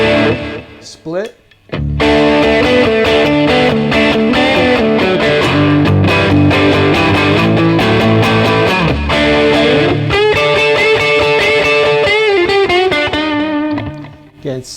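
A Tease SBH-E Tele-style electric guitar plays with its humbuckers in coil-split mode through overdrive. A brief pick scrape leads into sustained distorted chords and lead lines, loud and continuous, before a short fade.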